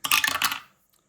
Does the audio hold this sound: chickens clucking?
no